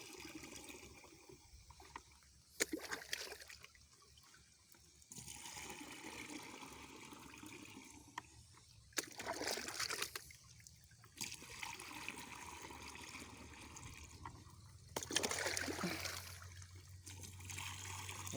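Water steadily filling a tank for mixing shallot plant medicine outdoors, a continuous faint rushing and trickling with a low hum underneath, alone without talk.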